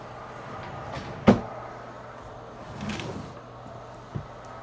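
A bedroom drawer holding sweatpants and pajamas is pulled open during home spring cleaning, giving a sharp wooden knock, then a soft sliding rustle and a small click, close by and fairly quiet.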